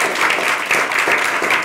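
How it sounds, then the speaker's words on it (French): A studio audience on a French talk show gives brief, steady applause, a dense wash of clapping heard alone. "Ignace, notre caricaturiste qu'on peut applaudir."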